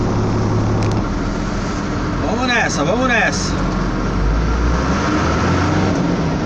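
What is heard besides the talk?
truck driving on city road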